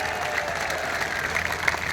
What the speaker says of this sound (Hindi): जोरदार तालियां बजा करके स्वागत करो।